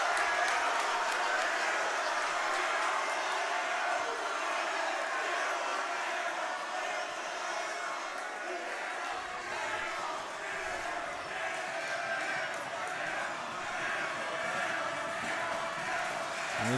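A large indoor crowd at a state playoff basketball game roars and cheers continuously during a free throw, a dense wash of voices from all around, swelling slightly partway through.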